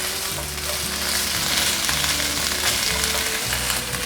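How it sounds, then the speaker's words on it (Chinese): Baby corn stir-frying in a pan gives a steady, loud sizzle with stirring scrapes, as water is poured in over the hot vegetables; no voices. "放入玉米笋， 炒一炒，现在放入水，"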